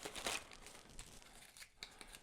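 Soft crinkling and rustling of a plastic bag being pulled open up close, a louder crackle at the start, then quieter handling.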